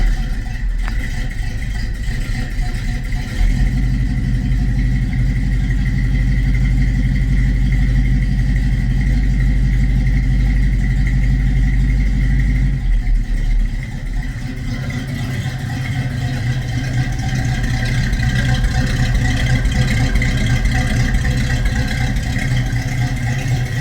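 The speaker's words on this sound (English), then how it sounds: "I'm gonna give you guys a cold start here." Cold start of a 1966 Ford Mustang with a 289 V8, settling into a loud, steady loping idle with a deep rumble close by, with a slight shift in engine note partway through.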